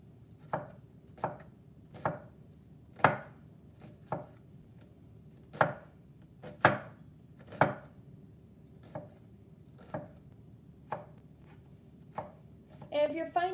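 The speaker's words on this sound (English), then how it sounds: "feel free to go by however you prefer your onions to be cut." A knife chops a whole onion on a cutting board in a run of crisp, irregular taps, close and distinct, ending in a quicker flurry of cuts.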